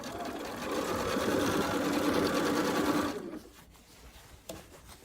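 A sewing machine runs steadily for about three seconds, stitching fabric for a poinsettia quilt block, then stops abruptly, leaving a quiet room with a small click afterward.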